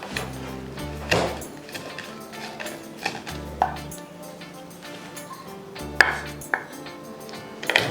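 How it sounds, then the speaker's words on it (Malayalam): Ginger being crushed for a Kerala-style prawn biryani, heard as a few heavy, dull pounding thumps spaced a second or two apart, each with a clinking knock, close by with quiet kitchen sounds in between. "ഇഞ്ചിയും അതുപോലെ ചതച്ചെടുക്കുക"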